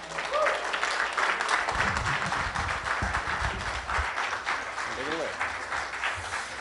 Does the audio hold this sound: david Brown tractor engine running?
no